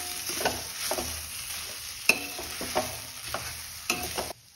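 Grated potato and wheat flour mixture is stirred in a pan, with a spoon scraping and clinking and a soft sizzle underneath, close and fairly loud, with no voice.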